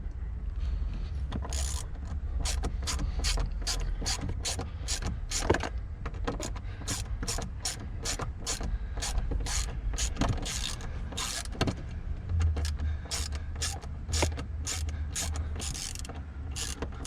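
A ratchet clicks steadily and close by while undoing a small Torx bolt from the rear seat of a 2004 Volkswagen Passat, rapid clicking bursts over a low hum, with no talking.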